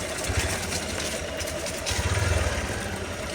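A motorcycle engine idles and putters steadily at close range, its low uneven thrum swelling briefly toward the end, with outdoor noise around it and no talking.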